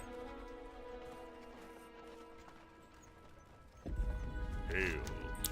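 Raptor mount's footsteps in World of Warcraft, a steady clip-clop of padded strides under game music, joined near the end by a louder thump and a bright flourish.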